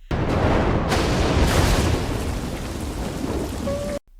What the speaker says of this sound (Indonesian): Dan mereka pun terjebak badai di suatu tempat.